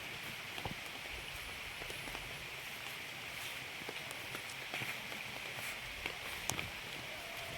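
Heavy rain pattering on a surface, a dense continuous hiss with scattered sharper drops, no voices.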